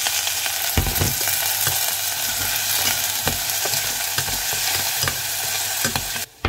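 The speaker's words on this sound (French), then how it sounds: "je fais revenir l'ail et l'oignon ensemble et j'ajoute un petit peu d'huile d'olive" Garlic and onion sautéing in olive oil, a steady close sizzle and fry with stirring scrapes and clatter throughout, no voices.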